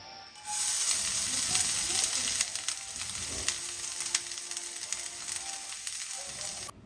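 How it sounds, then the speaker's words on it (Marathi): Ghee heating in a kadhai on a gas stove before making carrot halwa: a continuous close sizzle and hiss with a few sharper crackles scattered through it, and no talking. "कढई ठेवली आहे गॅस ऑन केलेला आहे आणि त्याच्यामध्ये तूप टाकते"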